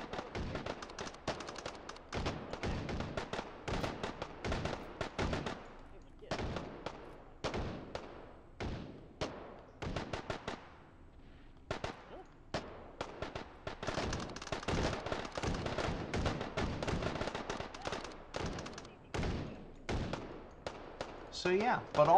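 Gunfire in the VR shooter game H3VR rattles through as rapid, dense bursts of sharp shots, loud and close, with brief lulls between volleys and a few faint voices mixed in.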